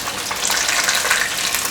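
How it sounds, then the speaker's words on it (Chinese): Bean curd sheets fry in hot oil, giving a steady, close crackling sizzle that runs unbroken throughout with no voices. "再继续让它把另一面炸成焦黄色"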